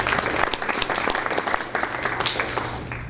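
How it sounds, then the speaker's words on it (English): A school board meeting audience giving a retiring teacher a round of applause, dense steady clapping from a room full of people, close and loud throughout with no talking. "So let's give Amy a round of applause."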